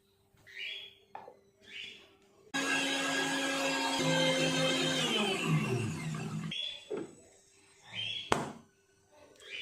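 Kitchen blender grinding ginger and garlic with a little water into paste, a loud steady whir running about four seconds and then winding down, with someone talking before and after.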